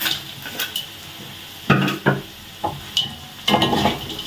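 Tempeh, tofu and anchovies stirred and frying in a pan, with scraping utensil strokes against the pan in irregular bursts over a light sizzle, close by.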